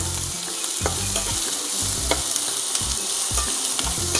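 Mixed lentil dal being stirred and fried in a pan gives a loud, steady sizzle close up, with rhythmic low scraping strokes from the stirring repeating about every half second.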